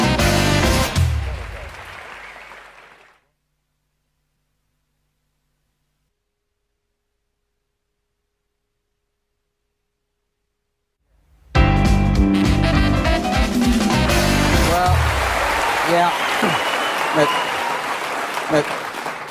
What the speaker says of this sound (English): thank you for that applause